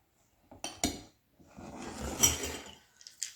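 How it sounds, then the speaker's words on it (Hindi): Eggs and milk beaten in a bowl for a fluffy cheese omelet, heard as a few sharp clinks of utensil on dish followed by a longer stretch of steady scraping and whisking, close and moderately loud with no talk. "और दूध डाल के इसको फिर से बीट करेंगे।"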